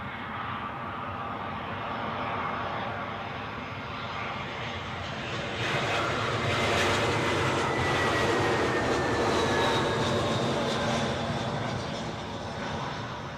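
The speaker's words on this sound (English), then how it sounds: "Next plane in, a British Airways A320 from Amsterdam." A British Airways Airbus A320 jet arriving from Amsterdam lands at London Heathrow, its engine roar loud and steady with a broad rushing swell that grows stronger midway, with no talking.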